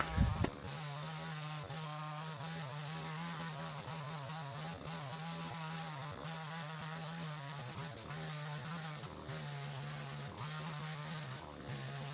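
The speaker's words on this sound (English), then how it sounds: "see what the chainsaw blade's like, and see if I can get through some more of that conifer" A chainsaw engine runs steadily and loudly, buzzing with small shifts in pitch as it cuts through fallen conifer wood, with no talking over it.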